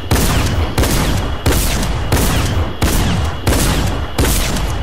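A legendary tactical shotgun fires in a video game, seven loud booming blasts spaced about two-thirds of a second apart, each with a short ringing tail, close and with no other sounds.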